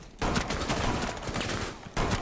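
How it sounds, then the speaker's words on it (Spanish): Heavy shotgun blasts in Rainbow Six Siege, a dense run of loud, overlapping booming shots that fills most of the moment, breaking off briefly before another blast lands near the end. "Madre mía, vaya escopetazos"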